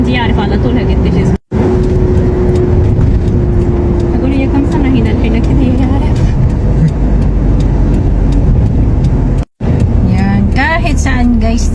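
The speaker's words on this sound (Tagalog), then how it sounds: "Gabi na traffic pa rin" Evening road traffic heard from inside a car, a loud, continuous engine and road rumble with passing vehicles, under frequent talk, broken by two brief silent gaps.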